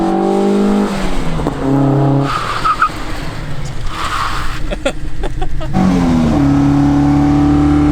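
A turbocharged Fox Body Mustang engine revs up hard, with rising whines and a turbo's whooshing, full boost arriving around 2,000 RPM, then settles back to a steady drone, loud and close.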